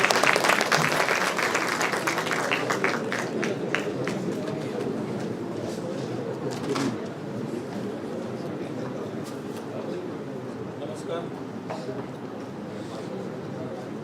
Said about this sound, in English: let's give him a resounding applause and welcome him on the dais